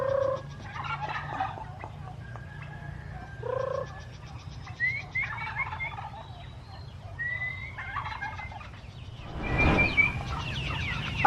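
A large farm flock of chickens and turkeys eats a treat of live snails, with scattered clucks, squawks and gobbling calls over a low steady hum, and a sudden burst of flapping and scuffling near the end.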